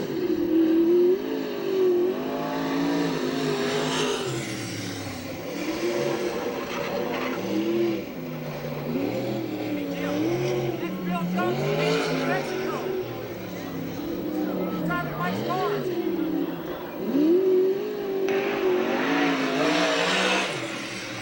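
360 sprint cars roar around a dirt track at Santa Maria, engines rising and falling in repeated revving sweeps as they lap, with an announcer talking over the racing throughout.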